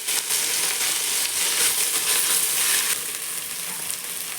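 Ginger garlic paste fries with mint in a pan for crab biryani, giving a loud, close, crackling sizzle that swells and fades slightly as it is stirred.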